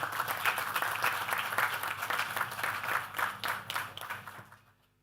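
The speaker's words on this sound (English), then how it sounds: "Let us give another round of applause" Audience applause at a road project groundbreaking ceremony, a dense, moderately distant patter of many hands that carries on evenly and then fades out near the end.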